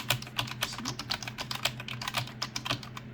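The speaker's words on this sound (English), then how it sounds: "audio test on keyboard" Quick, light clicking keystrokes on a wireless Bluetooth keyboard with its silicone cover removed, a brisk irregular patter of sharp taps recorded close and fairly quiet.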